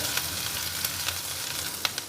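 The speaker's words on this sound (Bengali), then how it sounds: "এই তেলের মধ্যে এখন দিয়ে দিচ্ছি আদা বাটা দিয়ে একটু নাড়িয়ে নিচ্ছি।" Ginger paste frying in hot oil with cardamom, cinnamon and clove, stirred: a continuous close sizzle with a few scraping stir clicks and no voices.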